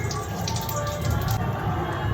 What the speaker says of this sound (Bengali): একটু জিরে ফোড়ন দিয়ে দিলাম, একটা লঙ্কা দিয়ে দিলাম,